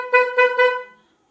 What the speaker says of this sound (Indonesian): Nah, klaksonnya bersuara ya.